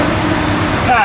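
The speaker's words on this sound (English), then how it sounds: "I'm going to go ahead and smooth it out on the brake lathe." A brake lathe resurfaces a Ford Capri Mk I brake drum, giving a steady, loud whirring machining hum throughout with a faint rising whine near the end.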